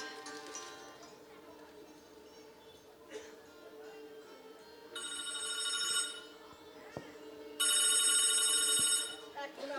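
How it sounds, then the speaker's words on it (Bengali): A telephone rings during a live theater performance, loud repeated bursts of electronic bell ringing, with background sounds and some stage speech around them. "এখন আবার কার ফোন এলো?"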